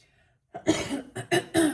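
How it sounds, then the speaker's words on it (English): A person clears their throat with a few short, rough rasps and coughs close up, after a moment of near silence. "let me clear my throat"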